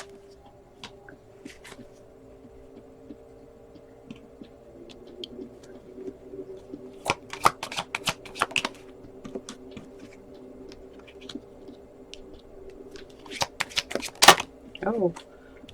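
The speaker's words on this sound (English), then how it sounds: "I'm just going to pull the rest of the cards" Tarot cards are shuffled and drawn, bursts of crisp riffling and snapping card flicks rising around the middle and again near the end, close to the ear over a faint steady hum, with a person speaking at times.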